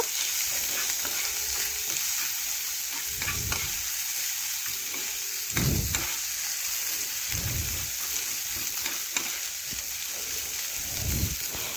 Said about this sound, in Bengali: পেঁয়াজগুলি আমি নাড়াচাড়া করে লাল লাল করে এভাবে ভেজে নিচ্ছি